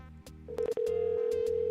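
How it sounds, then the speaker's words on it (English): A telephone rings with a steady electronic tone, loud and close, sounding after a few short clicks and continuing without a break. "That our phone is ringing."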